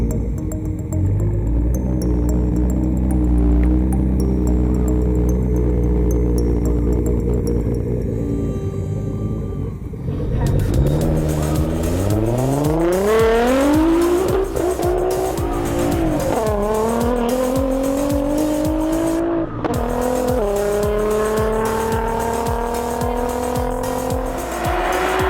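A NXgen Alpha 6 conversion car with a catless HKS exhaust at a private track event, engine note sweeping up through rising revs with long tire squeal, loud and close, shifting pitch repeatedly over the run.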